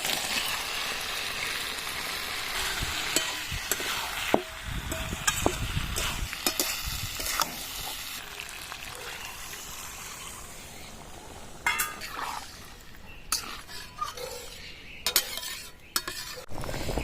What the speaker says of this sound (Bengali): ভেজে রাখা পটল আর আলুটা ঢেলে দেবো।